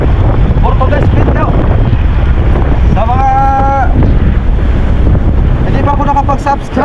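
Strong Typhoon Paulo winds battering Dinahican, Infanta, Quezon, a loud constant roar of gusts buffeting the microphone, with voices talking briefly over the blowing.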